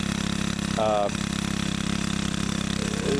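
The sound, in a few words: Kawasaki 35LBA trimmer engine running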